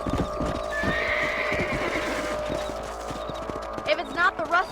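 A horse in the Red Dead Redemption western video game whinnies loudly over steady clip-clop hooves at a ranch, with a short second neigh near the end and people talking throughout.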